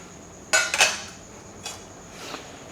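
A utensil stirs chicken adobo in a pot with a few scraping clinks, two close together and then a fainter one, near and otherwise quiet.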